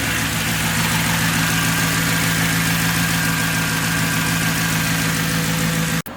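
A Mercedes C55 AMG idles in freezing weather while warming up, giving a steady, close engine drone with a low hum that runs unchanged until a sudden cut near the end.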